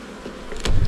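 Honeybees from a swarm buzz close by, a steady low hum that swells louder toward the end, with one brief sharper burst of sound near the middle.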